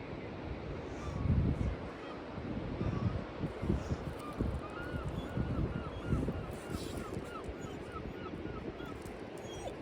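Wind buffets a microphone on an early-morning beach as a low, gusty rumble that swells and fades, with faint bird calls in the distance and no clear speech.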